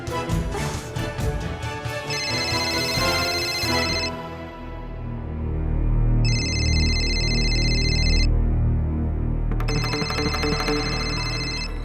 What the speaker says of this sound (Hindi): मालती का फोन।